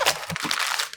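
A knife slicing a washed napa cabbage in half for a cabbage wrap dish, giving a short crisp crunching crackle near and loud, followed by continued crinkly crushing of the leaves.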